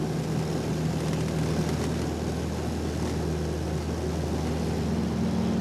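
Small plane flying over the Alaskan bush toward a river, a steady droning engine hum heard from inside the cabin, even and continuous.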